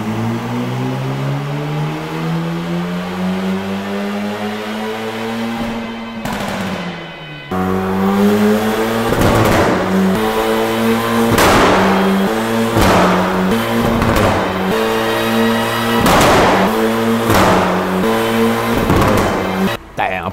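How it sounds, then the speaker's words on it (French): An Alpine car fitted with an Evox ValveTronic exhaust revs on a dyno with a loud, rising engine tone. Sharp crackles and pops punctuate repeated high revs close by. "Impressionnant le bruit ton Alpine."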